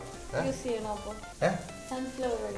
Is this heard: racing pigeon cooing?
no